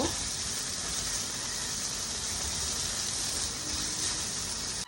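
Onions frying with chicken in a hot pan, a continuous dense sizzle that holds steady and fairly loud without break for the whole stretch, with no voices over it.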